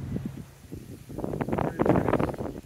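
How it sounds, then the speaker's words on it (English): Wind gusts on a mountainside buffet the microphone in rough, rumbling bursts that build toward the end, with a rustle of movement mixed in. "it's windy"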